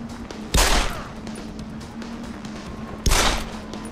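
Two loud, sharp gunshot bursts ring out about two and a half seconds apart in a Deus Ex: Human Revolution game scene, each with a short decaying tail, over a low steady background hum.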